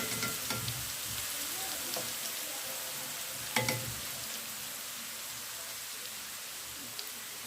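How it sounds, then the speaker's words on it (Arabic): Onions frying in a pan give off a steady, close hiss of sizzling, broken by a few faint clinks of a stirring utensil. "حطينا البصله هي كمان هديها لون، انا مبحبش تبقى صفرا قوي."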